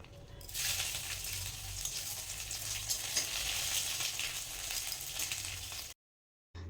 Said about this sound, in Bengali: তেলটা গরম হয়ে গেলে দিয়ে দেবো ফোড়নে শুকনো লঙ্কা, তেজপাতা এবং আদা বাটা।